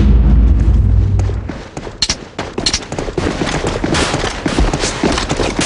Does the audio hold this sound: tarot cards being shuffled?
no